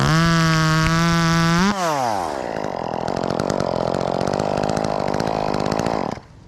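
A small 2511 chainsaw fitted with a 16-inch quarter-pitch bar and chain revs at high pitch, drops sharply, then settles into a steady buzzing idle-to-mid run before cutting off, close and loud.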